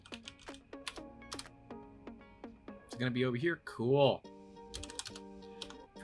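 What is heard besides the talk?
typing numbers into a computer calculator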